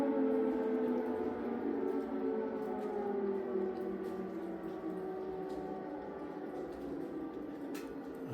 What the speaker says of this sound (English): It's the longest air raid siren I've heard since I've been here